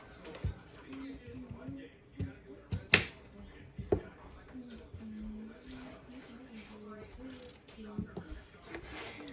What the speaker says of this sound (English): I'm going to start peeling my potatoes and dicing them up